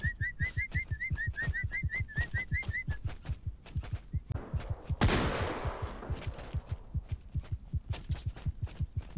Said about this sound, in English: Whistle till you die.